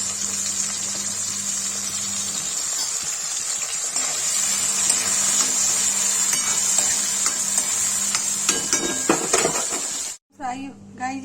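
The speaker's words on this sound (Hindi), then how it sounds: "ये फ्राई हो जाएगा तो इसको निकाल के तब प्याज काट के तब फ्राई करेंगे।" Mushrooms fry in oil in a pan with a loud, steady sizzle and the scrape of stirring throughout, cutting off abruptly near the end, where a voice briefly speaks.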